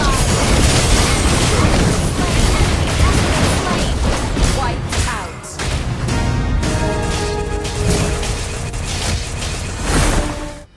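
Mobile Legends turret destruction amid battle, a dense, loud wash of booming blasts, pops and game effects running continuously, with an announcer-style voice over the din.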